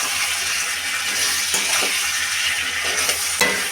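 Spoon stirring boiled taro stolons with fried prawns in a sizzling pan: steady close frying hiss throughout, with a few soft scraping strokes of the utensil against the pan.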